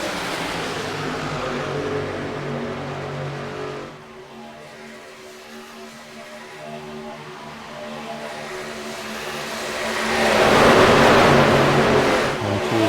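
Race cars at Daytona International Speedway running nose to tail, a sustained engine roar with droning pitch that dips, then swells louder as cars pass close near the end.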